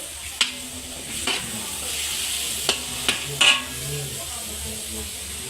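Sweet and sour stir-fry tossed in a pan, a steady sizzle with several sharp clanks of a utensil against the metal scattered throughout.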